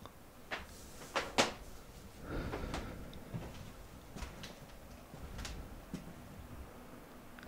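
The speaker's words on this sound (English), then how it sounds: "Sounded like a door." Door or cupboard creaking and knocking indoors at night, a few faint separate clicks and thumps with a short rustling shuffle in the middle, fairly quiet and distant with no talking.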